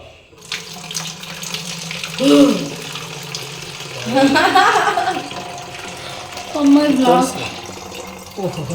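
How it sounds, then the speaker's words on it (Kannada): Water is poured in a steady running splash that surges a few times, with people talking over it throughout. "ಎಷ್ಟು ಪರ್ಫೆಕ್ಟಾಗಿ ನೀರು ಹಾಕ್ತಾ ಇದ್ದಾರೆ"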